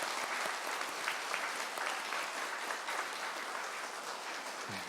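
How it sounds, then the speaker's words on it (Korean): A church congregation applauds the choir and its conductor at a Christmas morning service, a steady, even wash of many hands clapping that holds without breaks, with no talking over it. "우리 다시 한번 우리 지휘자 장로님 그리고 우리 찬양대원을 위해서 박수하겠습니다."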